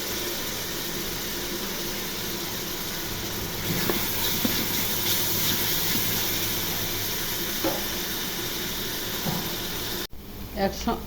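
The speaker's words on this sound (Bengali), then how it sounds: "এখন পেঁয়াজ দিয়ে দিব। ওটা পেঁয়াজ দিয়ে পেঁয়াজটা ভেজে নিব।" Onions frying in hot oil with ginger and garlic while beef is being cooked, a steady sizzle and hiss with occasional stirring clatter, under a person talking.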